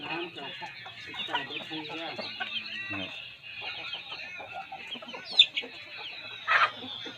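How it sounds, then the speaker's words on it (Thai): Several young Burmese gamecock roosters cluck and chatter close by in a lively, continuous flock, with a couple of sharper squawks standing out near the end. "ไก่รุ่นๆครับไก่เป็นหนุ่มแล้วนะครับ"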